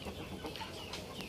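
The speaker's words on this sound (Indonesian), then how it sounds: "itu ayam induk ganti yang diumbar" Faint clucking of free-range mother hens in the background over steady outdoor noise, brief and low in level.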